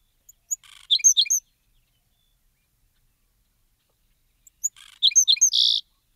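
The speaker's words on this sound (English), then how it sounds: "So very bubbly, liquid sounding song for this bird." A sparrow sings two short bubbly, liquid-sounding phrases of rapid trilled notes, clear and close against silence, separated by a pause of about three seconds.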